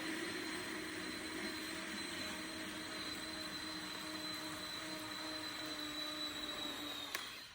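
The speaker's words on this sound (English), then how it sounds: "you'll hear the shade rising because the new battery is functioning properly" Motorized window shade rising on a new PowerRise battery, a steady, faint mechanical whine with tonal hum running evenly throughout and stopping with a small click near the end, without talk.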